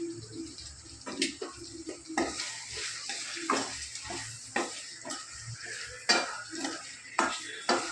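Tomatoes cooking in a pan while a spoon stirs and scrapes, with repeated metallic clinks and scraping strokes over a soft sizzle and no talking.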